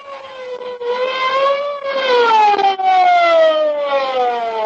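A loud wailing police car siren, its pitch gliding slowly up and then down in long sweeps, sounding steadily with no voices over it.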